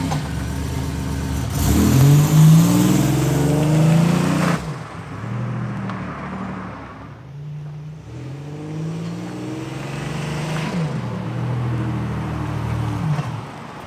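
A Buick Grand National engine with a fault that makes it die out revs hard, then sputters and drops off, rising again in uneven bursts before fading, loud and close.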